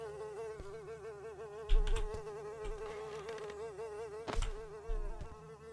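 Bees from the Beyond The Evil video game drone in a steady, wavering buzz that runs throughout, with a few brief louder thumps and bursts mixed in.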